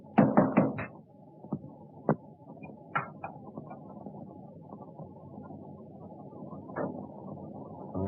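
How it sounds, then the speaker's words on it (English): Knocking at a door in an old 1931 film soundtrack: a quick burst of three or four firm raps, then scattered single knocks over a steady low hiss and hum. "I heard a knock at the door."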